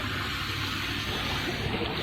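Water bubbles and gushes continuously, a loud, dense, steady churning wash lasting the whole short stretch without talking.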